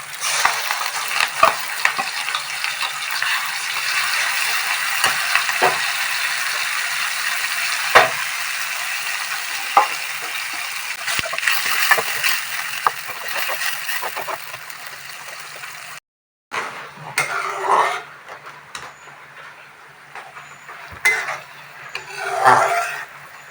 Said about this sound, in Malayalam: നമുക്ക് അരച്ചു വെച്ചിരിക്കുന്ന അരപ്പൊഴിക്കാം